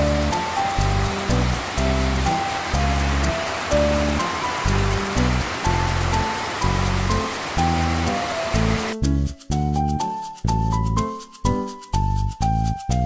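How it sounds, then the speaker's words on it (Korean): Rushing mountain stream water on Minjujisan in early autumn makes a steady wash of noise beneath prominent music, then the water fades back as the music continues alone. "청명한 날씨에 경쾌한 계곡 물소리까지 더해져 발걸음이"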